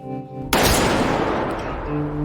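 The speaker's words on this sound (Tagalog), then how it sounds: "itinutok sa kanya ang baril. Pero, ipinutok kay Jungbei" A gunshot from the Squid Game season 2 drama: one sudden loud blast that decays into a long rumbling echo, set against a quiet musical background.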